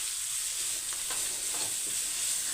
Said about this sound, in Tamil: நான் வந்து இதை தேங்காய் எண்ணெயில் தான் ஃப்ரை பண்ணுறேன்